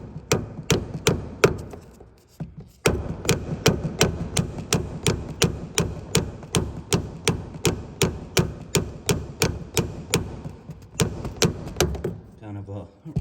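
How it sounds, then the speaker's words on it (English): A hammer taps steadily on metal in a tight space while freeing stiff steering on a Ford F-series truck, dozens of evenly spaced sharp strikes at a brisk, regular rhythm, close by. "Kind of a rather large hammer to be using in such a confined space."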